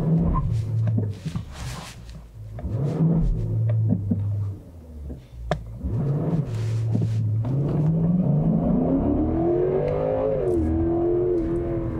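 A 2020 Genesis G90 sedan with a 5.0-litre V8 revs in a blocked burnout attempt, a deep engine rumble that rises and falls in several bursts, then climbs into a long sustained rev near the end.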